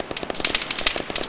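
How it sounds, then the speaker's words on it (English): Rapid bursts of automatic gunfire from a forest firefight in the video game Arma 3, several irregular volleys crackling in quick succession at moderate loudness, some shots sharper and nearer than others. "There are a lot of people shooting from the north."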